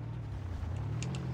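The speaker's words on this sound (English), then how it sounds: "So that is a bit of a mad exhaust" A Jeep Wrangler engine exhaust in the Spin Tires video game rumbles with a steady, low, throaty idle, moderately loud and continuous, with a few faint higher ticks toward the end.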